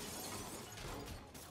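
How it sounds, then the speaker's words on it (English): Glass shattering in the video game Spider-Man Remastered, a dense crashing burst with scattered debris that sustains loudly across the short moment, with game noise underneath. "My glass broke immediately out of nowhere."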